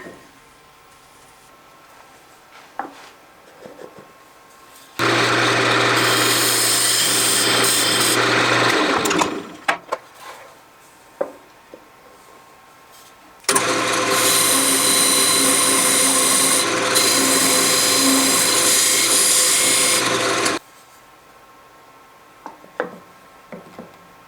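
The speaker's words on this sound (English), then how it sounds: "I'm just going to round this over and have it sit on top." A turning tool rounds over a scrapwood wooden bowl lid on a lathe in two bursts, one around four seconds and one around seven. Each burst is a loud, hissing, scraping roar over a steady motor hum, with quieter workshop clicks between.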